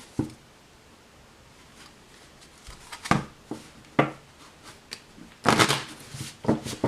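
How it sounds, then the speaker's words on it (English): Tarot cards are shuffled close by in quiet surroundings, producing several separate bursts of riffling and flicking with short pauses between them, and no voices. "So I'm going to pull the cards."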